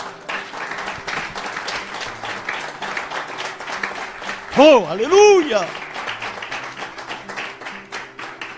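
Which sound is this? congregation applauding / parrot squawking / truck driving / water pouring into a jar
congregation applauding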